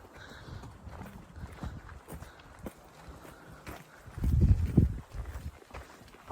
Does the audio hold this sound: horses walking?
yes